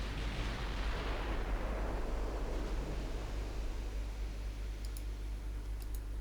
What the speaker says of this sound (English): The enemy battleship is firing back.